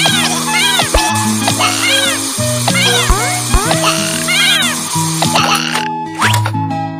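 A cartoon stray kitten meows repeatedly in short, high, sweeping cries over a bouncy animated-show music bed, with brief plops and boings scattered throughout.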